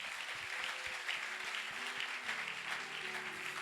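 A church congregation claps in a sermon, a dense steady patter of applause that carries on for a few seconds at moderate volume.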